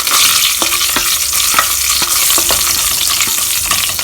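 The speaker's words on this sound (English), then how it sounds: "I'm going to add curry leaves, I'm going to add these green chilies" Curry leaves and green chilies sizzle loudly in a hot pan and are stirred, with a constant frying hiss and a few utensil scrapes and taps, no talk.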